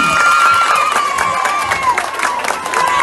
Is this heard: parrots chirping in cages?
no